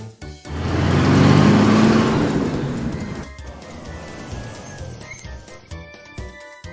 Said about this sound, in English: Airport tank.